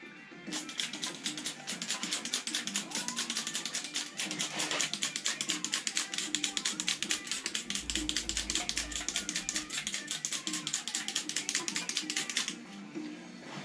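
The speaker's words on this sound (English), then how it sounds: "start rubbing down with 400 bit primer" Wet-sanding primer with 400 grit sandpaper in circular motions on Porsche Cayman 987 GT4 air ducts: a fast, steady, close scratching rhythm that runs continuously for about twelve seconds, then stops.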